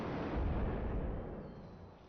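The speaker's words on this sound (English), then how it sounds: "you hear the blast wave rushing through the corridor itself" In a shooter video game, a gunshot's blast wave rolls through an interior corridor, a low, muffled rumble that swells and then slowly fades, heard alone and fairly faint.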